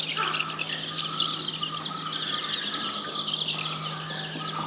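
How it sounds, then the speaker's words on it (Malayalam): Native chicken chicks in a brooder chirp constantly in a dense, overlapping chorus of high peeps, steady and close throughout, over a low continuous hum. "കോഴിക്കുഞ്ഞുങ്ങളെ ബ്രൂഡിങ്ങിന് വേണ്ടി ഇട്ടിരിക്കുന്നതാണ്."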